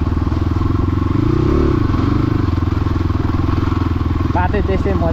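A motorcycle riding at night on a dark, quiet rural road, its engine droning loud and steady close by, with rough rumbling throughout and a voice speaking over it briefly near the end.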